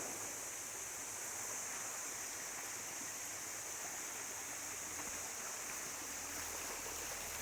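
Water rushes down a mountain stream or waterfall in hill country, a dense, steady hiss that continues unbroken throughout with no voices.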